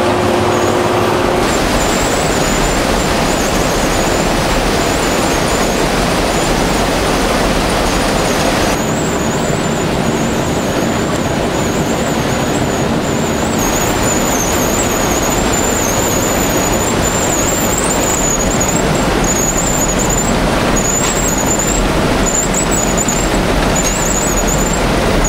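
Yarn mill machinery feeding fiber from a feed box and manufacturing roving for Major League baseball yarn in Millbury, MA: a loud, steady mechanical roar with broadband rumble and high whining tones that shift partway through, continuous without speech.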